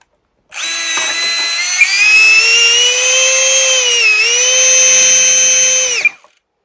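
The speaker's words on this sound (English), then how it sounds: "And now for the motor." The electric motor of an RC BAE Hawk model jet spins up on the bench, giving a loud, steady high-pitched whine that holds for about five seconds, dips briefly, then cuts off.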